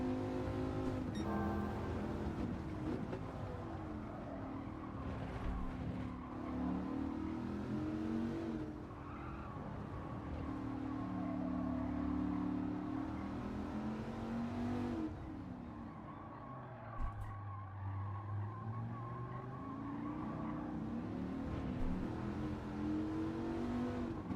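A race car in Gran Turismo 7 during a time trial, its engine droning and rising and falling through gear changes, with tires squealing and skidding as the car slides, steady and continuous with no talking.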